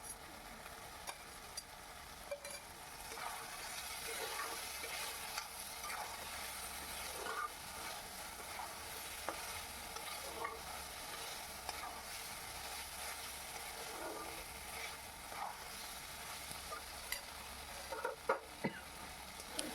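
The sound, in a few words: fried okra added to pan, frying and stirring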